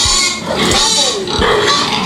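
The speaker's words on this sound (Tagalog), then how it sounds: "Kanelia, ano po ba itong mga alaga natin baboy na napakalimutin?" Sows on a farm grunt and oink loudly and close up in rapid, overlapping bursts, with several animals heard at once and a person talking faintly beneath them.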